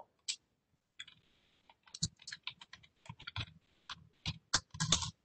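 Keys on a computer keyboard clatter in quick uneven bursts as C code is typed, close and crisp clicks with short pauses between runs.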